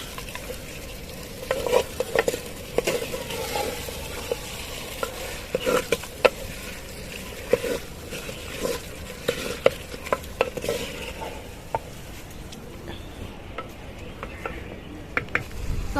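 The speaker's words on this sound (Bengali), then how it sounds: "তো আমি আরেকবার নাড়িয়ে নেব।" Handi chicken with spices being stirred in a packed pot, a steady low sizzle of frying broken by repeated scraping and clinking strokes of a spoon against the metal, close and continuous with no talk.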